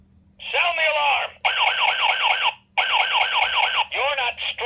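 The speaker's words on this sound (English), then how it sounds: "Sound the alarm!" Electronic alarm from A Bug's Life Hopper Room Guard toy, a loud warbling siren that sweeps up and down in repeated bursts separated by brief pauses, played close up.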